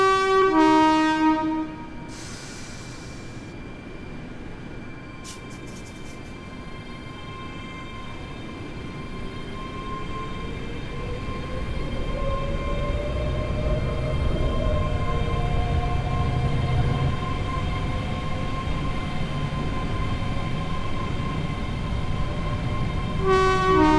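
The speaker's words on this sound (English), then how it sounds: "Rivet did at least get the initial whine you hear on these modern Hitachi trains" Modern Hitachi electric train in Train Sim World 3, a ScotRail express unit, giving a rising motor whine with steady tonal hum and rolling rumble that grows louder midway, no talk.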